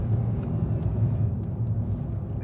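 A Hyundai Inster small car drives and accelerates, its steady low engine and road rumble droning continuously up close with no voices.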